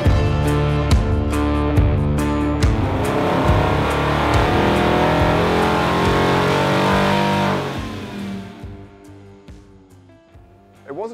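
Supercharged 5.7 Hemi eTorque V8 in a near-new DT Ram 1500 revving loud and close, a sustained harmonic roar with sharp throttle blips that winds down near the end.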